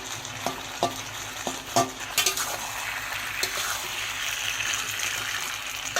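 A metal spatula mashes tomatoes into a paste in a hot pan during a fish curry of rohu with potato and pointed gourd. Repeated close scraping and stirring knocks ring out over a steady sizzle, with no talk.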